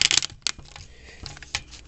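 Keycaps are pressed back onto a disassembled keyboard, giving sharp plastic clicks and clatters in a few irregular bursts, close up with quiet gaps between.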